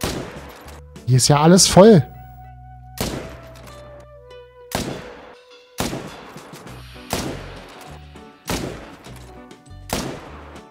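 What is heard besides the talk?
gunshots while hunting bison, video game theHunter: Call of the Wild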